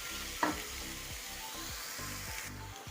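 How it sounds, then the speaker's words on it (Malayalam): Ginger and garlic sauté in a pan for a pepper chicken dish, a steady soft sizzle running throughout at close range, with a low rhythmic hum beneath it and one brief clink. "ഇതുകൂടെ ഒന്ന് വഴണ്ട് വരട്ടെ ഇഞ്ചിയുടെയും വെളുത്തുള്ളിയുടെയും പച്ച മണമെല്ലാം ഒന്ന് മാറുന്നത് വരെ"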